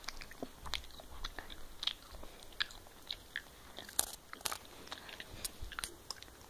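Gum being chewed close up, a run of soft, irregular wet clicks and crunchy bites spread across several seconds, quiet and without talk.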